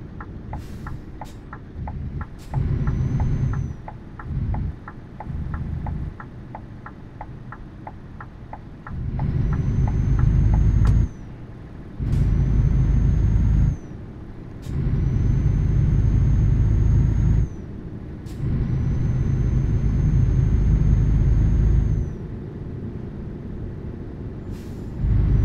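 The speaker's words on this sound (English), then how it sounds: "I am using default engine sounds for these trucks" Default truck engine sounds in Euro Truck Simulator 2 give a deep rumbling diesel that swells and falls with acceleration across repeated gear changes, punctuated by short hissing air-brake releases and a rhythmic ticking indicator.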